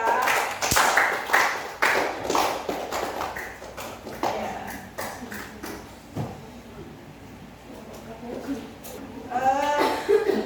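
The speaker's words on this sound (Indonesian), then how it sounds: "Beri tepuk tangan untuk kelompok 3" Students in an Indonesian classroom clap for a presenting group, with loose, uneven hand claps heard alongside chatter and voices talking throughout, tapering off toward the end.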